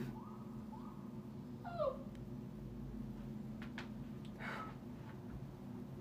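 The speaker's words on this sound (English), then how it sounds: "Your dog is scared." A scared dog whimpers in a few thin, rising and falling whines over a quiet room hum, faint and intermittent, with a short extra yelp-like cry partway through.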